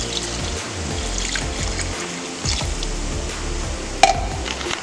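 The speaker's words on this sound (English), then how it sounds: "Got some milk and water." Milk and water poured into a cooking pot, a steady close liquid trickle and splash with faint stirring clatter and a brief clink near the end.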